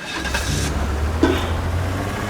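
A car engine in the video game Teardown idles and runs steadily at mid level, with a brief rev or bump about halfway through, heard alone without talk.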